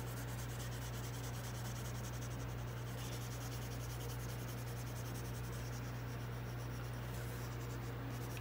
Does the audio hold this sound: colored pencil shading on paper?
yes